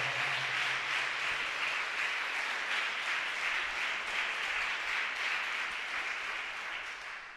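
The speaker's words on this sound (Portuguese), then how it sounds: "Dá uma salva de palmas para Jesus Senhor." Members of a church congregation clap in steady, sustained applause, a moderately soft wash of many hands that runs evenly for several seconds before easing slightly.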